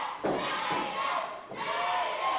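Crowd noise rises and roars as fans cheer and yell at a pro wrestling event, a dense wall of voices that swells, dips briefly, then surges again.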